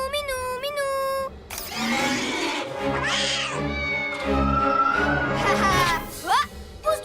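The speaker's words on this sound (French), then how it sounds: "Oh, un autre chat effrayé." A cartoon cat meows several times in a row, with high, drawn-out, rising and falling cries and a strained, caterwauling tone, heard close and clear over a soft animated score.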